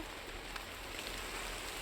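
Steady, faint rain hisses continuously over a farm field where beans are being picked, a soft wash of falling drops with no voices.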